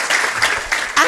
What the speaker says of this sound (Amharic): ዋው! አጨብጭቡ ለኢየሱስ።